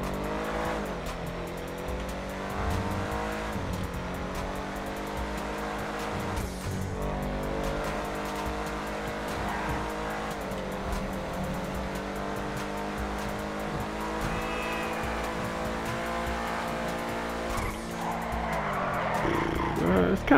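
A Canis Freecrawler off-road vehicle in GTA 5 drives continuously, its engine note rising and falling through gear changes and revs, with occasional tire squeal on turns, steady and close throughout.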